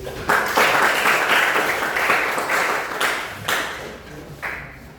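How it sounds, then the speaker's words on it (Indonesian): An audience in a classroom or hall breaks into applause, several loud bursts of dense clapping that swell and fade in waves, close and lively. "Berikan aplaus."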